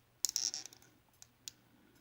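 Plastic Lego pieces of a transformer figure click as its arms are rotated and folded down, a quick cluster of small sharp snaps followed by two isolated clicks, close and quiet.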